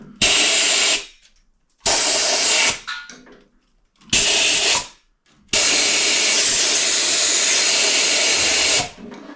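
Compressed air blasts through the engine of a 1931 Model A pickup in four loud, close hissing bursts, three short ones and then a long one, separated by brief silences.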